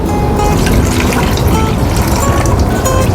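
Clean water is poured into a container, a continuous close splashing trickle that stays loud and even from start to finish.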